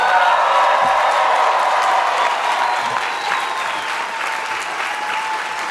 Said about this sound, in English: Round of applause again, please.